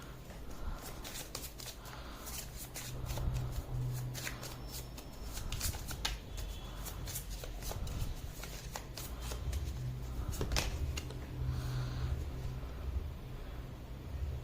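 Tarot cards shuffled and pulled from a deck by hand, a steady papery riffling and flicking that continues throughout with a few sharper card snaps, close up and alone without talk.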